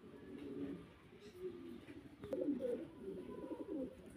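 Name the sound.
giant homer pigeons cooing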